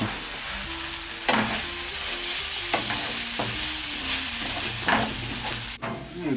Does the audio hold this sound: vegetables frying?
yes